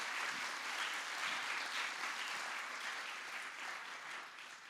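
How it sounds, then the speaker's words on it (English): Broad, continuous applause from a large TEDx event audience cheering designer Sam, seated in the crowd, heard as a steady wash of many hands that tapers off slightly toward the end. "can we please give them a huge round of applause?"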